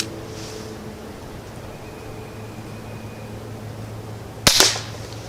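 Single sharp shot from an Umarex Browning Buckmark pellet pistol fired with RWS pellets, a loud close crack near the end after several seconds of quiet background hum, with no talking.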